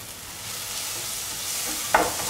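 Scrambled eggs with garam masala are mixed in a hot pan, a soft steady sizzle with a single sharp scrape of the spatula near the end.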